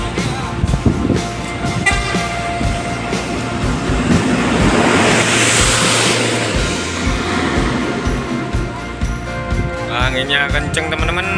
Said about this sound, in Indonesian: Anginnya kenceng teman-teman.